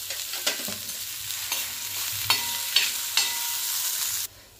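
Long-sliced onions fry in a little oil on a griddle, giving a steady close sizzle with several sharp scraping strokes of a spatula or spoon, then the sound cuts off abruptly.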